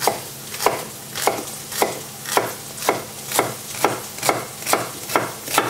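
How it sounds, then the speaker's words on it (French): A knife cuts two celery stalks into small pieces on a board. The crisp chops come about ten times in an even, steady rhythm, close and alone. "Maintenant, débiter en tout petits tronçons, comme ceci, mes 2 branches de céleri"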